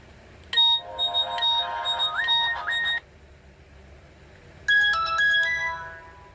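The classic Nokia SMS tone plays as a MIDI ringtone on a Nokia N70 phone: a bright, clean beeping melody sounds once, then starts again after a short pause, close and clear with no talking.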